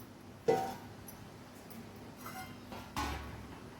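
Metal cooking pots handled in a home kitchen: two sharp clanks, one near the start and a louder one near the end, with a faint knock between over quiet room background.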